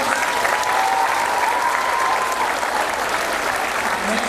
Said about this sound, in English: All right, let's give Miss Miller's class a big round of applause.